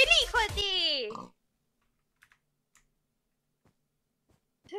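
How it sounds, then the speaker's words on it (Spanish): A pig oinks in the Pixelmon mod of Minecraft: a quick run of close, squealing grunts at the start, then near silence broken by faint clicks. "¡Eso es un cerdo!"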